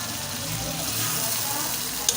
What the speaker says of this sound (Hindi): अब इसमें 2 चम्मच दही डाल देंगे।